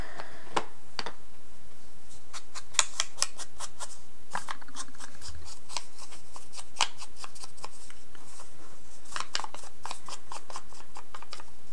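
Scissors snip through book-page paper in a quick series of crisp cuts, some in tight runs and others spaced out, close and clear over a quiet background.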